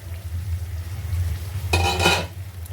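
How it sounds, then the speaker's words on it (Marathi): A lid comes off a pan of stuffed pomfret cooking on low gas, giving a short metallic clatter over a low steady stove hum. "आपण झाकण काढून पाहूया."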